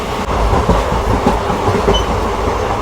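Steady rumble and rhythmic clatter of a train running on rails near Dudhsagar Waterfalls on the Goa–Hyderabad route, loud and close, with no voices.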